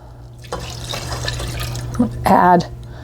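2% milk pours into a bowl in the kitchen, a brief liquid splash-and-glug near the end after a steady background hum, with faint speech-like sounds through the clip.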